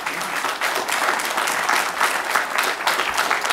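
Audience applause at a congressional field hearing on the California high-speed rail project, a steady, dense crowd clapping that fills the room continuously without pause.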